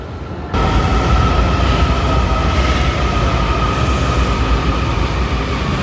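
Loud, steady rumble of a moving train heard from inside, travelling in Washington, D.C., with a constant whine over the roar and no talking.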